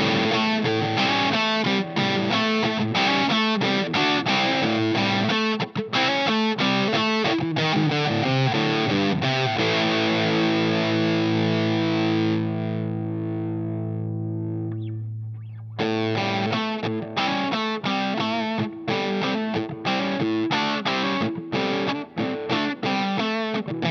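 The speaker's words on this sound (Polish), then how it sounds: "najwyraźniej przesterowany sygnał" Electric guitar played through a GC Stompboxes Vault Tec distortion pedal switched to germanium diodes, heavily overdriven chords strummed in quick rhythm, with a long sustained chord ringing out midway before the strumming resumes.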